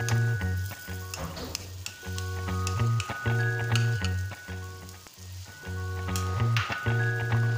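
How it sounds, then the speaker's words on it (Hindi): Ground chana dal frying in a pan with turmeric and red chilli powder, steady close sizzling broken by repeated scraping stir strokes, with no voices. "चने की दाल को भी हमें भूनना है।"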